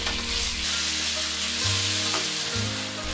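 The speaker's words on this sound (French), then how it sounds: "dans une sauteuse à feu moyen, une cuillère à soupe d'huile, bien faire monter en température, cuire la viande 3 à 4 minutes" Pork sizzling loudly in a tablespoon of hot oil in a sauté pan over medium heat, a close, steady hiss and crackle with no voices.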